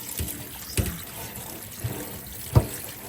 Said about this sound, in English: Keep on rinsing it just to make sure that everything is nice and clean.